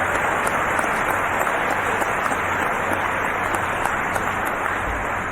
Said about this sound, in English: Yes, please clap for them.